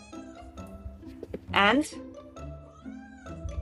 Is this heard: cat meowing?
yes